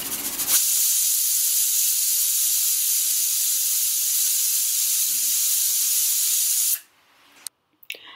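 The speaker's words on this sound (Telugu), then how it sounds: "తర్వాత 3 నుంచి 4 విజిల్స్ వచ్చే వరకు వీటిని ప్రెషర్ కుక్కర్ పెట్టుకోవాలి." A pressure cooker cooking tomato soup releases a loud, steady jet of hissing steam for about six seconds, then cuts off abruptly into near silence with a few small clicks.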